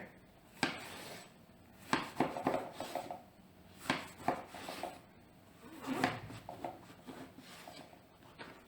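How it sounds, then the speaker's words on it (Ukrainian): A knife chops on a cutting board while slicing salad ingredients for an aubergine and cod liver salad into strips, giving a series of sharp, close taps in uneven clusters with quiet handling and rustling between them. "Перекладаємо, нарізаємо на такі от полоски."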